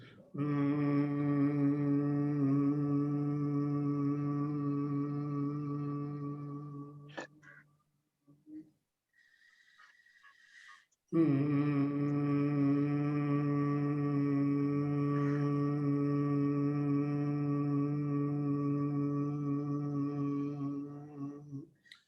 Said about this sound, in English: and then you make a humming sound